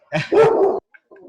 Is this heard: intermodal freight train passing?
no